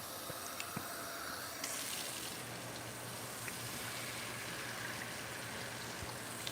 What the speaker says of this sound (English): A little water in there.